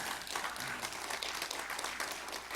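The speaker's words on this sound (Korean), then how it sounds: "우리 장로님 박수 한번" A church congregation during a Sunday worship service gives a steady round of clapping for an elder, dense and even throughout without any voices rising above it.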